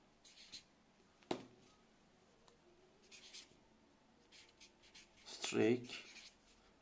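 Words being written on a classroom board, with faint scratchy strokes, one sharp tap and a louder scrawl near the end, soft and close by with no one talking.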